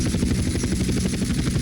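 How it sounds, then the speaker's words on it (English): Helicopter flying in GTA San Andreas, a steady continuous rotor and engine drone with a low rhythmic thump, loud and close throughout, with no talking. "And now we're actually gonna land a helicopter this time."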